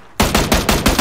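Rapid gunfire from the video game PUBG: about five loud, evenly spaced bursts of shots break out after a brief quiet moment and repeat in a steady rhythm.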